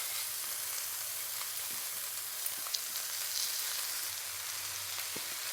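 Rice stirred into hot oil with cumin in a home kitchen pan for jeera rice, giving a steady close sizzle with a few faint clicks of a spoon and no voices.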